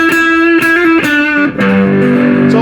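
An electric guitar solo plays with a heavy distorted tone, held and repeated notes that move through chord tones, loud and alone without any voice.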